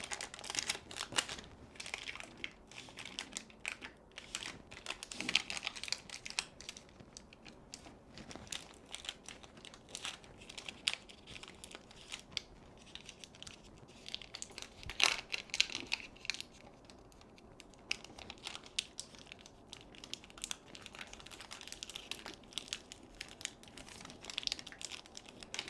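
Glassine paper is folded and wrapped around a bar of homemade soap, giving close, crisp crinkling and rustling with scattered sharp crackles and no talking.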